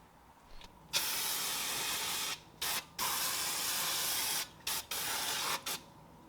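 Spray paint hissing onto an Audi A3 8P front brake caliper, in long steady bursts broken by brief pauses, close and alone with no talking.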